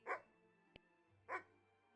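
A dog outside a cottage barks twice, short sharp barks spaced about a second apart, fairly close, with a faint click between them and no talk.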